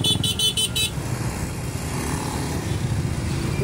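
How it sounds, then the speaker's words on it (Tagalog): Car horns in congested traffic on a city road, a quick run of about five short beeps over a steady engine rumble, then just the idling and passing vehicles. "Kita mo traffic, busina ka ng busina."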